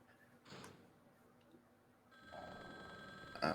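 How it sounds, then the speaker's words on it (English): A telephone rings inside the video game Resident Evil Survivor, a steady electronic ring starting partway through over quiet game ambience, with a short thump near the start. "I don't need to answer that phone."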